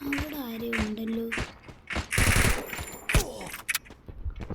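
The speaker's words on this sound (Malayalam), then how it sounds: "എനിക്ക് ഇവിടെ വെടി ശബ്ദങ്ങൾ കേൾക്കുന്നുണ്ട്" Bursts of automatic gunfire and scattered single shots from the Free Fire mobile battle-royale game, in clustered volleys at moderate distance, with a voice heard at the start.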